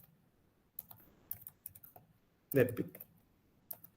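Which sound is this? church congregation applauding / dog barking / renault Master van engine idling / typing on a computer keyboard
typing on a computer keyboard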